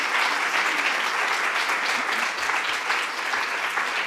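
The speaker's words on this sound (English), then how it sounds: "Round of applause once more." An audience at an international forum on climate and education applauds warmly, a dense, even wash of clapping that holds steady for several seconds.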